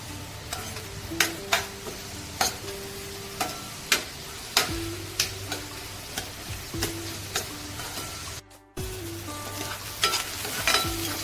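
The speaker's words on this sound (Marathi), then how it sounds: "आपल्याला कांदा चांगला आता शिजवून घ्यायचा आहे" Onion with ginger and garlic sautés in a pan under a constant sizzle, with a regular series of sharp spatula taps and scrapes against the metal, interrupted by a brief silent gap before stirring continues.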